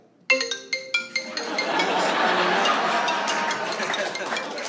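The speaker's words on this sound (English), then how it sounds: "every time you hear that ringtone from now on" A xylophone-style phone ringtone plays a quick run of bright, bell-like mallet notes near the start, then fades as a crowd breaks into loud, sustained cheering and applause.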